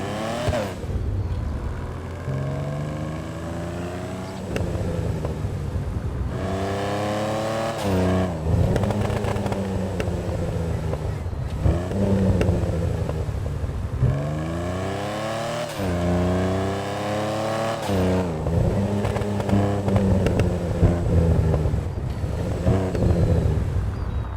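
A car engine in the video game GTA Online revs up repeatedly, each rise falling back into a low, growling deceleration, sustained and loud with no talking.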